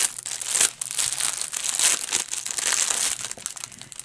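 Plastic packaging from a Dreamer Designs Woodland Church kit crinkles and rustles up close during unboxing, continuous handling with sharper crackling bursts throughout.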